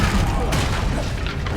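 A heavy booming spell impact in Hogwarts Legacy, the Descendo slam, lands close and loud amid a rumbling clatter of crashes and thuds.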